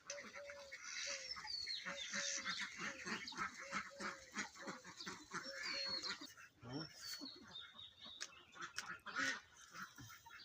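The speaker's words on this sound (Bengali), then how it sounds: "ওই রুমে আবার আছে হাঁস কয়টা" Farm ducks kept in a room quack and honk repeatedly in a rhythmic, overlapping chorus, fairly faint and close, with some indistinct background noise.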